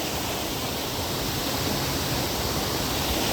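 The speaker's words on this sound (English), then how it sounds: "Down here is the top of the waterfall." Waterfall in Macquarie Pass National Park, heard from the top of the falls as a steady, dense rush of falling water that holds an even loudness throughout, with no talk over it.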